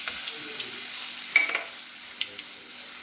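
Coconut, garlic, ginger and coriander paste fries in oil with mustard seeds and cumin, a soft sizzle broken by a few sharp spatula scrapes and stirring taps.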